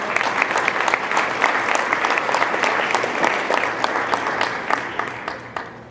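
A high school senior night audience applauds students honoured for community service, a sustained, dense crowd clapping with sharp individual claps standing out before it tapers off.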